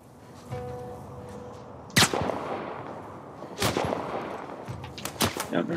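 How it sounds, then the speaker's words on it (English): Gunfire in The Last of Us Part 1: sharp, loud single cracks spaced a second or two apart, then a quicker burst of several shots near the end over a low background rumble. "More gunshots from where?"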